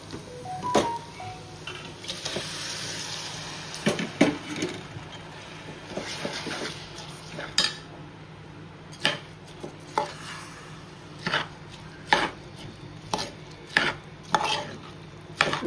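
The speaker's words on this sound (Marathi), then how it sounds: "आता आपण हे जे बासमती तांदूळ धुवून ठेवले होते ते टाकूया" Washed basmati rice goes into cooked mutton in a pressure cooker for an Aagri-style biryani, with close scraping and clattering of metal, then a run of sharp, separate clinks and taps.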